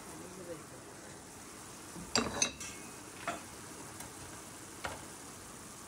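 Mustard paste with spices frying in a pan for a kangla fish curry, a faint steady sizzle with occasional clicks of a spoon stirring against the pan.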